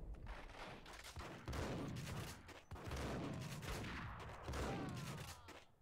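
Gunfire in the Max Payne video game: repeated bursts of rapid shots in several dense waves, loud and close, with no voices over them.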